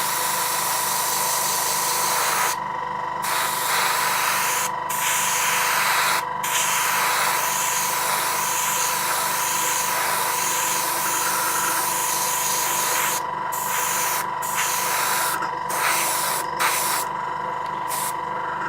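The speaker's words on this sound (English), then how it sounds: "we've still got plenty in there, might as well spray it all" Continuous spray-gun hiss of candy paint being sprayed onto a model, steady and close, with brief pauses where the trigger is released, over a constant compressor hum.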